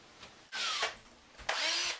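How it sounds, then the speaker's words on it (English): A fully charged battery-operated power drill whirs in two short bursts, each spinning up sharply with a rising whine and then cutting off, heard up close with no talking. "here I have my fully charged battery operated drill"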